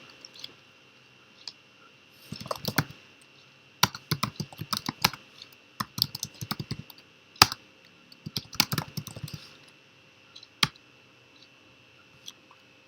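Terminal commands are typed on a computer keyboard in quick bursts of sharp clicking keystrokes, separated by short pauses and a few isolated taps, close up and with no voices.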